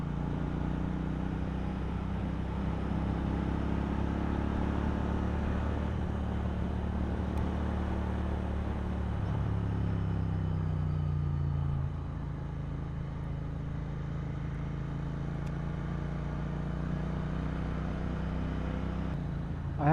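A parallel twin motorcycle engine drones steadily while riding the North Cebu Loop, a close, smooth, continuous hum whose pitch shifts slightly partway through as the speed changes.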